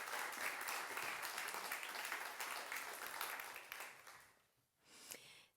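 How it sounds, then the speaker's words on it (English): An audience at an evening talk on climate politics claps warmly to welcome a speaker, a soft, somewhat distant patter that holds steady, then thins and dies away, leaving a brief quieter stir near the end. "Please give a warm applause to Florence Metz."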